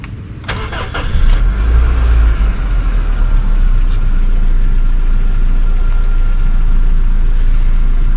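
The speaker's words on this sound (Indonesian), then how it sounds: "Oh, kita coba nyalain mesinnya dulu." A 2008 Honda Civic FD engine cranks briefly and catches, then settles into a steady, loud, close idle with no talking.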